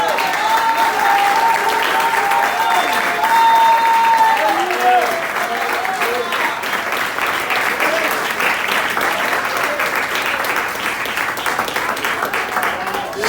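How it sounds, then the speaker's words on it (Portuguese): A church congregation at a teaching service claps steadily and loudly for the whole stretch, with a voice carrying over the dense applause. "Vamos dar a melhor salva de palmas."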